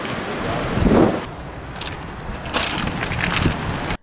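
A strong northwesterly windstorm blows through Kahramanmaraş on a cold, sunny day, with broadband roaring gusts swelling around the first second and again later. Wind buffets the microphone throughout, then the sound cuts off abruptly at the end.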